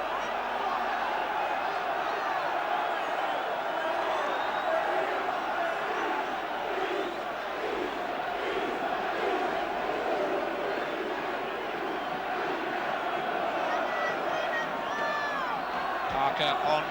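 Football crowd at a 1979 FA Cup third-round match, Southend v Liverpool, roaring and chanting in a steady, dense wall of sound from a packed stadium heard from a distance, with no clear voice over it.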